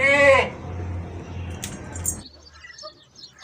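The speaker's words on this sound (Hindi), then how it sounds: "ये बकरी है, कामूरी पटेली नस्ल है" A Kamori Pateli goat gives one short, close bleat with a quieter low murmur behind it, followed by faint chirps and light background noise.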